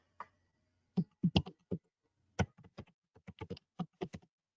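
Keys tap on a computer keyboard as a username and password are entered, with a quiet, irregular run of close clicks in short bursts separated by brief pauses.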